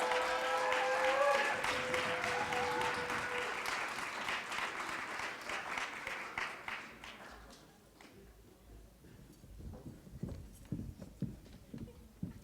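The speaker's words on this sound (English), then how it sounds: "Give them a round of applause." Sustained applause from an audience, loud at first with a held tone underneath, then thinning out into scattered individual claps.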